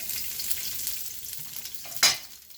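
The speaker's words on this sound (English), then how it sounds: "Vegetable cooking oil. Right away. Garlic in." Garlic dropped into hot vegetable cooking oil over high heat in a vegetable stir-fry, a steady close sizzle that flares into a louder burst as the garlic hits the pan, with no talking.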